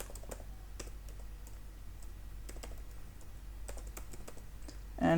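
Computer keyboard typing while code is written, scattered bursts of quick key clicks with pauses between them, close and fairly quiet over a low steady room hum.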